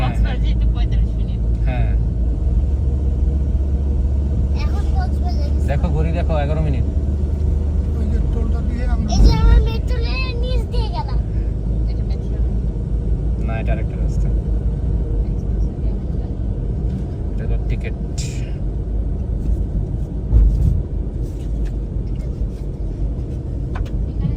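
Heavy road traffic jam on the way toward Cox's Bazar, with a steady low rumble of idling and slowly moving vehicles, engines droning continuously under occasional nearby talk and brief louder passing sounds.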